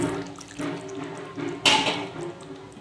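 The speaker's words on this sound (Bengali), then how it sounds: "এই যে চিকেনে সামান্য জল দিয়ে দিলাম" A small amount of water is poured into chicken curry simmering in a pan, a soft liquid splash that rises briefly mid-way over low background kitchen noise.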